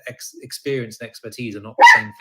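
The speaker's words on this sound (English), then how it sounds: "Oh, sorry, that's my dog." A dog barks close by toward the end, a loud burst rising over steady conversational speech.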